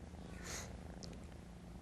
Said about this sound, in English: She's a 4-month-old domestic shorthair.